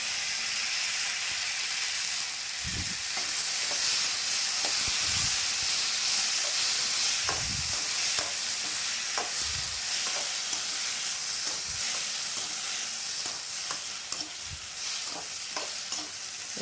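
Onions sautéing in a pan while being stirred, a steady hissing sizzle with periodic scraping strokes of a spoon roughly every two seconds, close and moderate in volume, no one speaking.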